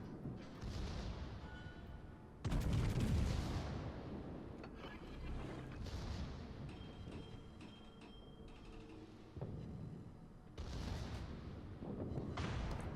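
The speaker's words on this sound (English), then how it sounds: "getting some extra help from my secondaries, as you can see blasts off in the background" Secondary guns aboard a warship in World of Warships fire in booming blasts, a few heavy reports spaced several seconds apart over a low mechanical rumble, fairly distant and muffled.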